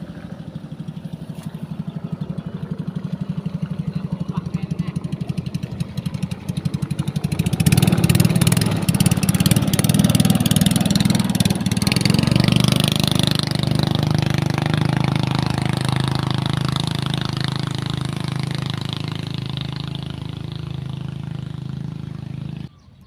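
A boat engine drones steadily as it passes near a rural fishing spot, swelling louder midway and then holding a low, continuous rumble before easing slightly.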